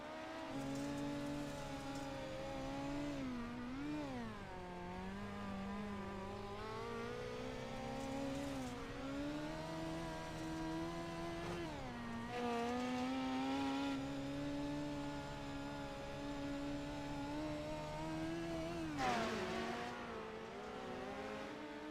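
Dirt midget race cars circle a dirt track at Cedar Lake during a WORC tour heat, their engines droning and rising and falling in pitch as they rev and pass at mid distance in a continuous, loud blend.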